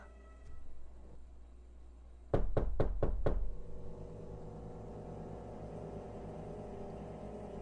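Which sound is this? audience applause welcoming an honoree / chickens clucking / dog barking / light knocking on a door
light knocking on a door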